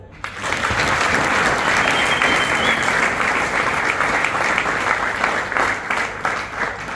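Audience at a workers' gathering in Bukavu breaks into loud, sustained applause, a dense wash of clapping that fills the whole stretch with faint voices mixed in.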